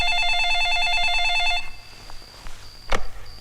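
A telephone rings loudly in a regular electronic warble pattern for about a second and a half, then cuts off as the call is picked up, followed by brief handling clicks.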